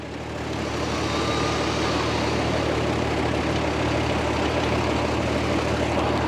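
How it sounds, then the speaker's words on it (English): A vehicle-mounted winch on its lower setting hauls rope through a snatch block, a steady, unstrained mechanical drone layered over a low idling engine, constant and close with no voices. "So that winch is working pretty easy. It's not labouring."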